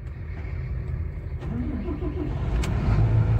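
A Volvo 480 excavator engine, recovering from an ECU computer fault, turns over and catches, settling into a steady low diesel rumble with a faint rising hum, close by; a voice speaks briefly over it.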